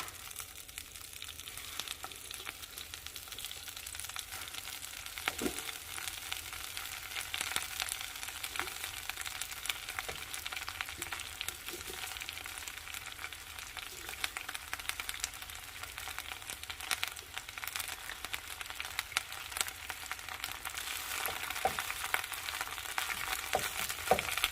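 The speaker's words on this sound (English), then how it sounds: "Into a preheated pan, I'm adding some olive oil, and I'm going to just saute and wilt down all of this fresh baby spinach." Fresh baby spinach sautés in olive oil in a preheated pan, a soft, steady sizzle with occasional light clicks and stirring scrapes, fairly quiet and continuous throughout.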